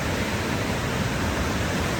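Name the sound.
river water rushing with strong force after rain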